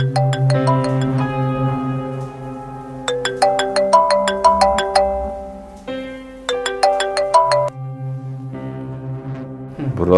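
A melodic electronic ringtone plays loudly, repeating its tinkling phrase several times with brief pauses between, ending abruptly.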